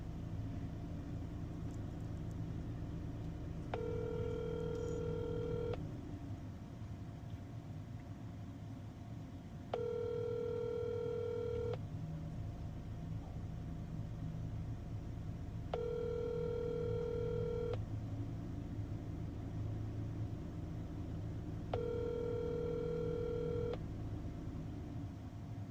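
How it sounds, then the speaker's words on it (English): Repeated dual-tone ringback pulses of a telephone call being placed sound in four evenly spaced bursts about two seconds long, over a low steady rumble and with no voices. "So we're just going to give him a call real quick just to give him the good news."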